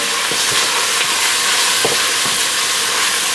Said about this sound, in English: we started rendering down some bacon and some onion on the stove